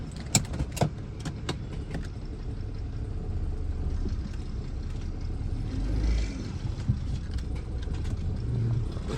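BMW E46 with a blown head gasket idling steadily up close, a low rough engine rumble throughout with a few light clicks and rattles as it is put into gear.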